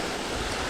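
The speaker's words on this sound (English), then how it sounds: "Little waterfall here, man-made." A small man-made waterfall gives a steady, broadband rush of falling water, close and uniform with no variation and no voices.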